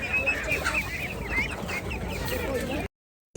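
Chickens cluck repeatedly in the background at a busy animal market, with murmuring voices mixed in, before the sound abruptly cuts out.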